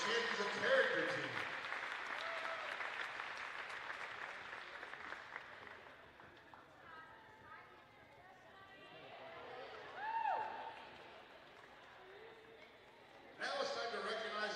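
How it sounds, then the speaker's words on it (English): An audience at a women's volleyball awards ceremony applauds, a dense wash of clapping that fades out over several seconds, followed by quieter room noise and murmuring, then a short fresh burst of clapping at the end. "a round of applause for the Champions of Character team"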